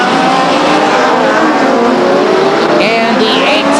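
Stock race cars roar past close by at Stockton 99 Speedway, a loud continuous engine drone with a brief high squeal near the end.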